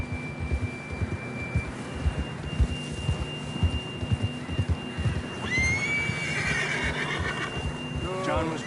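A horse in the Red Dead Redemption 2 western game gives a clear, fairly close whinny, then a shorter second neigh, over steady rhythmic low thumps and a faint sustained tone.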